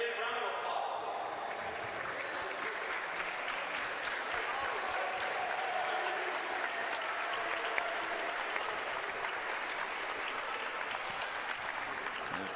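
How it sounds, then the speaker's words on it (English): A gym crowd gives a standing ovation to seniors at a Covenant Christian versus Huntington St. Joseph high school sports event, dense continuous applause filling the hall at an even level, with cheering voices mixed in. "let's all stand up with a stand round of applause, please."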